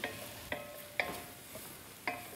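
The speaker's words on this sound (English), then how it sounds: "the important thing with ratatouille is you have to keep on stirring" Ratatouille vegetables frying in a pan are stirred with a few quick, regular scraping strokes about every half second over a soft, quiet sizzle, with no voices.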